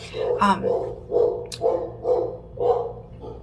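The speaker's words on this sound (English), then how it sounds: "My dog is barking." A dog barks repeatedly indoors, about five moderately loud barks in an uneven rhythm, with a faint click midway.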